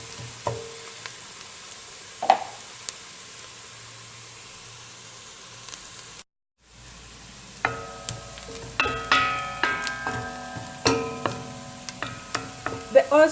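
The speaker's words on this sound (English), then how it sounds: "The onion right now is simmering nicely with oil and transferring its flavors" Onion fries in hot oil for a vegetable arrowroot soup, giving a soft steady sizzle that is later punctuated by repeated sharp clinks of a utensil stirring against the pot.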